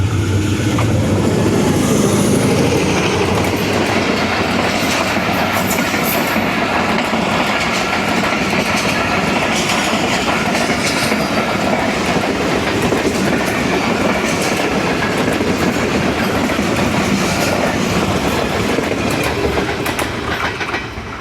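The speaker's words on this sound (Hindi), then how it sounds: "अवाम एक्सप्रेस गुजर गई" The Awam Express passenger train rushes past close by at about 66 km/h near Lahore, loud and continuous, with rhythmic clickety-clack of wheels over rail joints.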